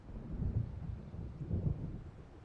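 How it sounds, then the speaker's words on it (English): Low, rolling thunder rumbles through a stormy night in the video game Alan Wake Remastered, with two deep swells over a steady hiss of rain and wind. "It seems there's a storm coming."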